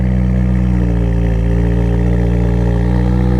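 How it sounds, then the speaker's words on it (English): A loud, steady engine drone from a salvage car with its check engine light on, rumbling exhaust and a faint whistling whine of the turbo spooling riding on top, continuous throughout with no voices. "When you can hear the turbo spooling through the exhaust."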